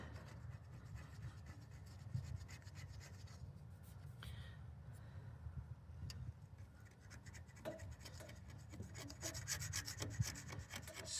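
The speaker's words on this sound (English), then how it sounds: "Scrape that hard stuff off." Hard deposits scraped off a tractor engine block by hand, a quiet steady rasping and rubbing with irregular scratchy strokes, close and alone.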